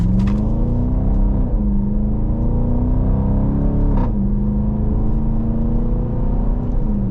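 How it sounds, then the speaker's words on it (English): A 2025 Dodge Durango R/T exhaust rumbles loudly from the cabin while accelerating, its engine note rising steadily through two gear shifts with a continuous deep drone. "Beautiful sound coming out the exhaust of this Durango."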